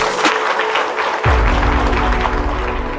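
An audience at a school event claps for visiting donors, a burst of applause that swells suddenly and continues loudly and densely after a brief noisy start.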